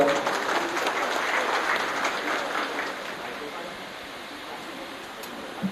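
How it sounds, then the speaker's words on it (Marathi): A large crowd at an election campaign rally claps steadily and continuously, dense applause that stays loud and then slowly tapers slightly toward the end. "जरा चोरात टाळ्या होतील एकदा"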